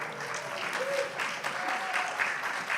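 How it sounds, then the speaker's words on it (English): Audience applause at a live celebration event honoring a budget grant, steady broadband clapping from a crowd filling the room throughout. "applause please"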